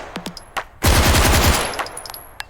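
A submachine gun in the VR shooter H3VR fires one loud, rapid automatic burst lasting under a second, with a few handling clicks before and after.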